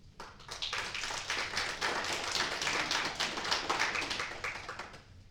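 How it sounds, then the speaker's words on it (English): Applause breaks out at a council meeting, a modest crowd clapping quickly after a public comment, swelling briefly and fading at the end. "Let it be noted that TJ Cohen got applause."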